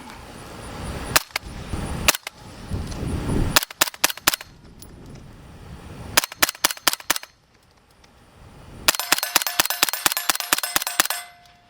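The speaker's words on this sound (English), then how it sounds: "let's see how it sounds with the solid end cap in this configuration." Suppressed gunshots from a rifle fitted with a B&T Print X SD suppressor in its compact configuration with a solid end cap: loud sharp reports, first single and double, then fast rapid-fire strings, heard outdoors with nobody talking.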